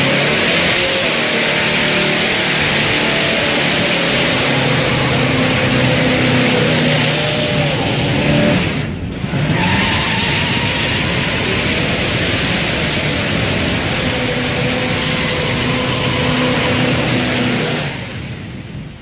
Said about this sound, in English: This thing does a great burnout.